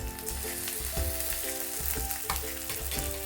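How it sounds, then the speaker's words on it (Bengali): Two spoons of ginger-garlic paste fry with browned onions in a pan for the puti fish curry. A loud, close, continuous sizzle is broken by regular scraping strokes of a stirring spoon, with no voices. "এখন আমি দেব 2 চামচ আদা রসুন বাটা"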